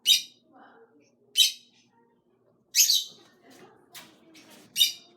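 Several sharp, high chirps from pet birds, including a blue one, burst out in about five short calls indoors. A faint voice murmurs quietly between them.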